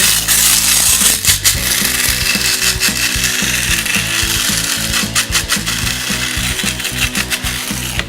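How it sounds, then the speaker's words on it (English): Whole peppercorns rattle and crunch in an electric spice grinder, a loud, steady grinding buzz with rapid clattering that runs for about eight seconds without talk. "I'm gonna dump these into my spice grinder."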